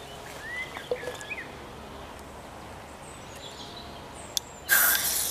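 A can of Old Speckled Hen ale, shaken in bicycle panniers, opens outdoors in the countryside with a short, sharp, gassy hiss near the end, after a quiet stretch with faint birdsong.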